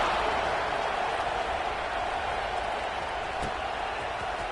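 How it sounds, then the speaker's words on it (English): A stadium crowd in a football video game keeps up a steady, dense roar and murmur, a continuous wash of many distant voices with no distinct cheers standing out. "this crowd is buzzing after that last score"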